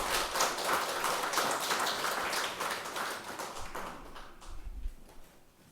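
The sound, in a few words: congregation applauding in church service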